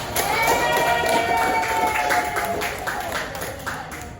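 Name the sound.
classroom applause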